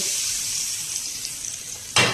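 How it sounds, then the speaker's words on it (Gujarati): Hot oil poured into a Gujarati raw mango and tomato chutney sets off a steady bright sizzle, loud and close, which flares sharply at the end as more oil hits; no talk. "તો ગેસ બંધ કરી દઈશું અને આપણે આ તેલને ચટણીમાં ઉમેરી દેવાનું છે આ રીતે."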